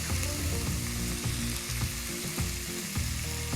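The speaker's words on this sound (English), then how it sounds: "And we're gonna sear the meat for about 3 to 4 minutes on each side." Beef tenderloin sears in a hot pan with a loud, steady sizzle and crackle close up, and occasional clicks and scrapes of utensils run through it, with no talking.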